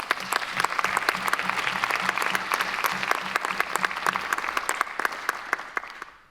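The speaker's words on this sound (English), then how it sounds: "Please join me in another round of applause and congratulations to all." A conference audience at a high-level pledging meeting breaks into sustained applause, crisp dense clapping that holds steady for about six seconds before fading.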